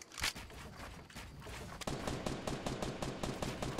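Rapid bursts of Fortnite gunfire crackle in a steady rhythm, closer and louder in the second half, with several shots overlapping into continuous battle-royale firing.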